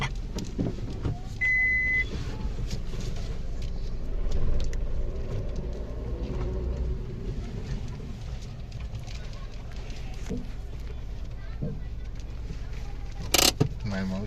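A car is being parked, with a steady low engine rumble throughout, faint shifting and rattling, and a brief clicking clatter near the end.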